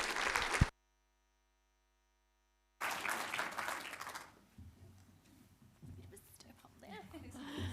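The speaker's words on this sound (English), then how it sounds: "Yeah, round of applause." Audience applause at a Canberra community forum on the Voice to Parliament: a short burst of clapping cuts off, then resumes loud and full before fading into quieter scattered claps beneath a speaking voice.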